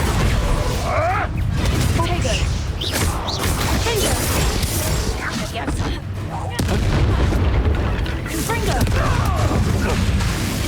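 Bombarda explosion spells in Hogwarts Legacy, a dense run of booming blasts and crashes in a hectic magical duel, loud and continuous under overlapping voices and battle noise.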